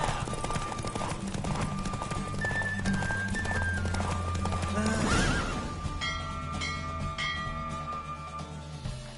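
In The Witcher 3, a horse neighs and whinnies while its hooves clip-clop at speed during a race, loud and steady under a continuous game soundtrack and ambience.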